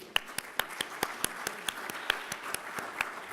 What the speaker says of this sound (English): So please give a round of applause to our two speakers